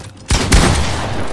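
A burst of gunfire in the video game Fortnite, one sharp crack followed by a louder boom that rings out and decays over the next second, loud and close with no talking.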